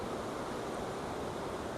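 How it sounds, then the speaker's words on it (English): Greymare Waterfall near Glencoe pours in a steady, broadband rush of falling water, constant and fairly distant, with no voices. "It's called Greymare Waterfall."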